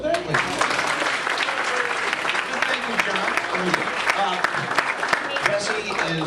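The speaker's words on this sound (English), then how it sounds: "A round of applause for that, ladies." Audience at a live charity event breaks into sustained, dense applause, loud and continuous for the whole stretch, with scattered voices and cheers mixed into the clapping.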